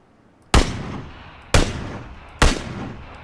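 Three loud, sharp gunshots ring out in the battle royale game PUBG, spaced about a second apart, each a hard crack followed by a short decaying tail, with no talking.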